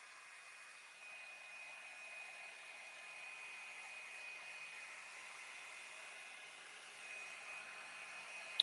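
Hair dryer blowing on glue on a craft project: a faint, steady whooshing hum runs evenly throughout with no voices, ending in a small click.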